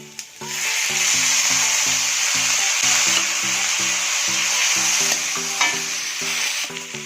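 Chopped tomatoes fry in a hot pan with a steady loud sizzle, while a repeating tonal hum sounds underneath throughout.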